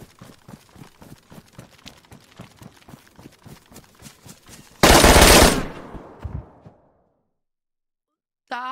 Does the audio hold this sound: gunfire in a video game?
yes